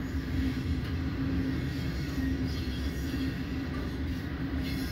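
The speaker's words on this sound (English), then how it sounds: "And finally, the end of our train." A long freight train in Fremont, Nebraska rolls past close by, a continuous loud rumble of wheels and cars with a faint steady hum.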